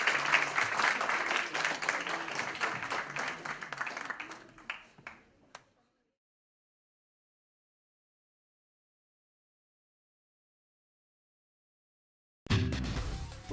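Loud applause from an audience at a university ceremony in Tulancingo, dense clapping that fills the first few seconds, fades out around five seconds into silence, then bursts back in near the end.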